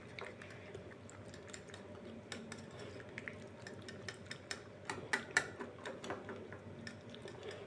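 Soybean paste being hand-mixed with garam masala and turmeric powder, giving soft faint squelches and light ticking taps that grow slightly busier toward the end, quiet and close with no talk.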